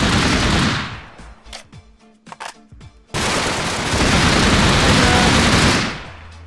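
Gunfire in Minecraft crackles in loud dense bursts, a long volley at the start, a sparse gap of scattered shots, then another sustained roaring barrage that cuts off near the end.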